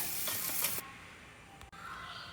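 Tomato and onion sauté in hot coconut oil, starting with a loud hissing sizzle that drops away after a moment to a quieter, fainter crackle.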